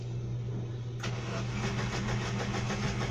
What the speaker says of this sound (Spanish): Vean que ni arranca, aparentemente se ahoga.